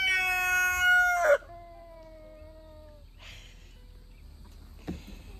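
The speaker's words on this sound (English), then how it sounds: "Yang is not very happy because Bart is now the head rooster." A rooster crows loudly with a long drawn-out call, followed by quieter, more distant crowing from other birds in a farmyard.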